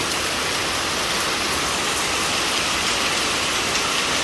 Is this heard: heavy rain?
yes